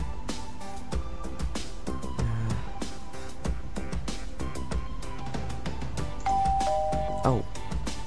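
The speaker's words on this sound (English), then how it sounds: "Is that the bell?" Chiming doorbell rings out in a Minecraft roleplay game, several bright ding-dong tones over background game music, with a clear ringing burst near the end.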